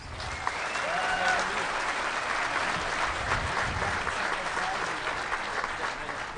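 Audience applause at the DEFCON hacker conference closing ceremony, a loud, dense burst of clapping from a large crowd that stays full and steady throughout, with a few faint voices and whistles over it.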